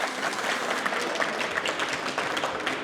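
A crowd claps loudly and steadily for a girl named Mariam at the ARM GAMES camp final, a dense, continuous wash of applause with no pause.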